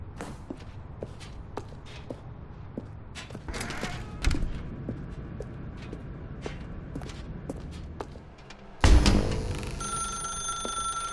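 Telephone in The Stanley Parable video game, a bright, sustained electronic ring that starts abruptly near the end after scattered footsteps and creaks in a quiet room.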